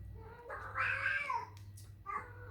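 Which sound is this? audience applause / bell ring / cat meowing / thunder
cat meowing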